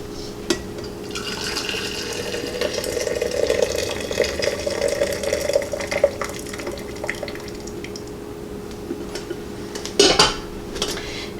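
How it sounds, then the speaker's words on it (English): Home-canned herbed potato stock being strained back into its glass canning jar: a steady close pour with faint liquid splashing and light clinks of a strainer or utensil, ending with a brief louder clatter near the end. "I'm going to strain my stock back into my jar that they were canned in"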